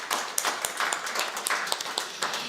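Audience applause for a performer at a live folk music radio show, with many hands clapping in a dense, steady patter at moderate distance throughout.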